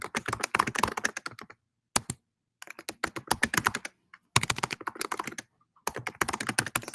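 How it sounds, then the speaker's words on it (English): Rapid clicking keystrokes on a computer keyboard come in bursts, separated by short silent pauses, close and crisp. "I think she's typing."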